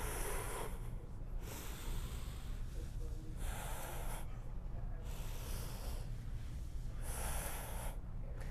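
Steady, close breathing during Romanian deadlift reps, with long hissing exhales and inhales alternating in a slow, regular rhythm over constant background noise.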